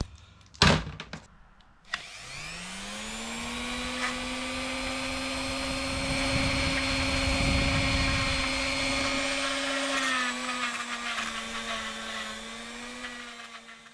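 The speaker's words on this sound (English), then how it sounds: "I'll clean it up with the Dremel." A Dremel rotary tool spins up after a couple of clicks and whines steadily for several seconds, close and loud, as it cleans a pitted metal part.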